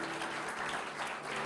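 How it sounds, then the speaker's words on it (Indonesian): Church congregation at a Sunday worship service applauding, a dense steady wash of clapping sustained throughout at a moderate level. "Kasih tepuk tangan buat Tuhan kita."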